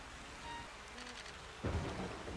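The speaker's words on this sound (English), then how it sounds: "It's so stormy out." A thunderstorm with steady rain in the video game Yonder: The Cloud Catcher Chronicles, a constant rain hiss with a low rumble of thunder rolling in near the end.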